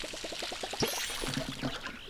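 Crops being watered in the video game Palia, a short run of about ten quick, evenly spaced watery splash blips followed by softer pouring and trickling effects, clear and alone with no talk.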